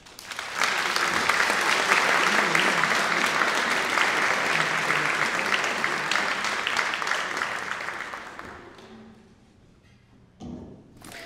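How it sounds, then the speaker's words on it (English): Lecture audience applauding to welcome a speaker to a talk on the Silk Road and Tang dynasty art: a full, steady round of clapping that swells, holds, then fades out, followed by a brief thump. "please welcome Seung Hee with a warm round of applause"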